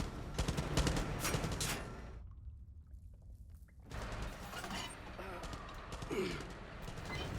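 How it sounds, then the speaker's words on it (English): Gunfire in a Far Cry 6 cutscene: dense bursts of shots at the start, a brief near-silent gap, then more firing under shouting voices. "They're shooting like they want to blow themselves up!"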